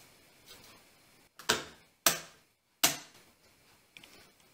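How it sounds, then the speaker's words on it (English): Three sharp, loud pops as the pins of a metal braille slate punch through an 11.5 by 11 inch sheet of paper, spaced under a second apart, with softer clicks and handling noise before and after. "that sound was the pins popping up through the paper so that the paper's not going to slide around"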